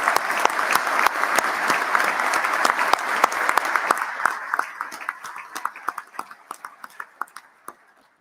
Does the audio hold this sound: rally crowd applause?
yes